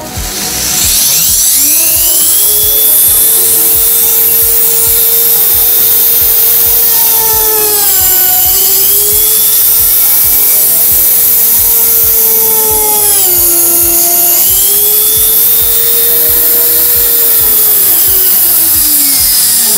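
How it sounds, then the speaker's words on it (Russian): A drill with a slightly dull bit bores into a wooden blank, giving a loud, continuous whining and rubbing grind with its pitch dipping and rising as the load changes, with no talk. "Это нужно подточить немножечко сверло."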